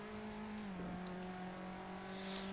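Steady, sustained engine drone of a race car in Assetto Corsa, holding a near-constant high pitch that dips slightly as the gear or revs shift, close and continuous with no talk.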